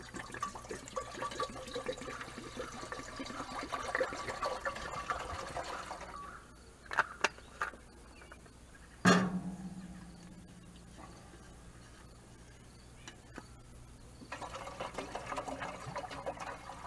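About two quarts of water pour into a pot on a gasifier stove as a steady, splashing stream that stops partway through, followed by a few clanks and knocks and then quieter handling.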